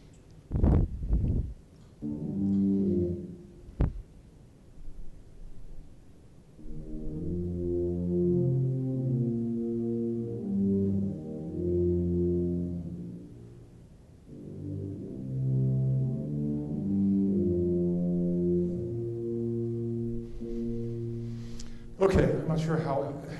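A recording plays back at a quicker tempo, a full ensemble of sustained, moving brass and wind chords, with a few brief sounds before the music and a short burst at the end.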